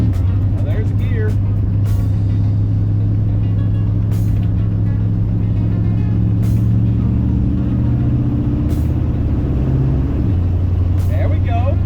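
A 1950 Ford car drives along with a steady low engine drone, its pitch dropping near the end as it shifts gears, amid road noise and a few brief clicks.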